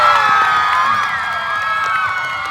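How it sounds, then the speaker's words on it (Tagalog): A game show audience cheers and applauds at once, loud high-pitched shouts and whoops mixed with clapping in a sustained crowd roar from start to finish. "Magpalakpakan po na may kasamang sigawan na nasabing maganda po ako sa personal."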